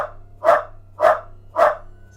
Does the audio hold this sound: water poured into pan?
no